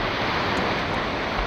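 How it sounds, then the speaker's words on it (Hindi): Steady broadband rush of sea surf at a beach on Havelock in the Andaman Islands, a big wave breaking close by, continuous and fairly quiet, with no talking. "ये देखिए क्या बड़ी वेव आई"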